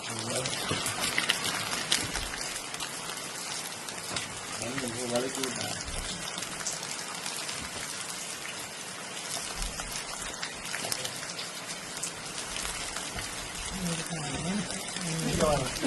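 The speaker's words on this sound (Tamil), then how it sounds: "மான்சில் எப்படி மழை பெய்யுது பாருங்க. மழை பெய்யுது." Steady rain patters down on a home organic garden where vallarai plants grow, a continuous hiss of drops on leaves and soil lasting throughout while a person talks over it.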